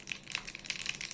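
Mustard seeds, fenugreek, cumin and dried chillies spluttering in hot oil in a tempering ladle for South Indian tiffin sambar, a quick burst of sharp, close crackles and pops.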